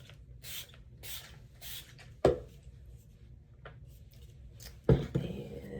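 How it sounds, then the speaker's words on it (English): Three soft hissing spray bursts early on, followed by a couple of sharp clunks and quiet handling noises. "a little bit of body spray"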